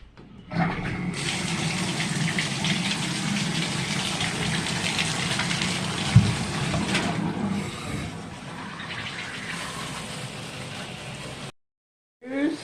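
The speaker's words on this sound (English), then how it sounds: "Now let me open the shower." A shower is turned on and runs as a loud, steady rush of water, with a brief knock midway. It eases slightly near the end, then cuts off abruptly before a short burst returns.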